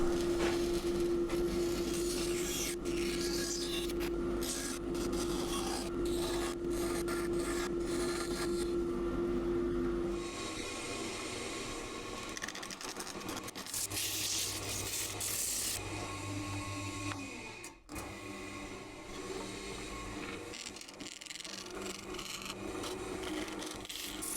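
A wooden pulley wheel for a homemade yarn winder is cut out, giving a steady, close rasping saw noise that shifts to a rougher, grittier scrape partway through.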